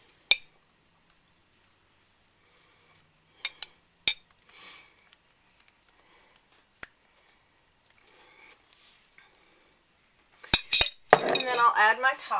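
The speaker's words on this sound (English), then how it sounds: "I'm actually just going to spoon some of that out and smear it around a little." A spoon dips into jarred pasta sauce and spreads it over homemade pizza dough: sparse faint clinks against the glass over near silence, then a short, close burst of wet scraping and smearing at the end.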